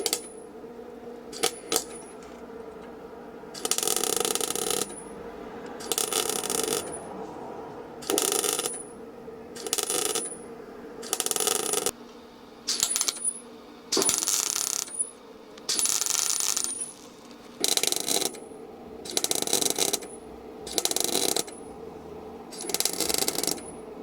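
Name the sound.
arc welding on motorcycle metal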